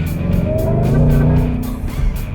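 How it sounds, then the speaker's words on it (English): A 900 horsepower Hertz rental Mustang's engine revs loud and close, a deep throbbing roar that rises and holds briefly, with faint ticking and road noise around it. "such an angry engine"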